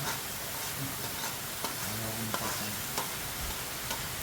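Cow offal sizzles in a frying pan, a steady hiss close by with a few stirring clicks and scrapes, and no talk.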